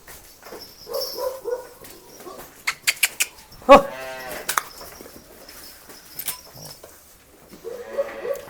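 A calf lets out one loud, drawn-out moo close by, with a few sharp knocks and faint rustling before and after.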